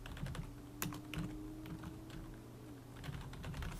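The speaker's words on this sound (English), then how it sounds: "So I'm typing this" Someone types on a computer keyboard nearby, producing a run of irregular, quick key clicks with a few sharper taps over a faint low hum, and no one speaks.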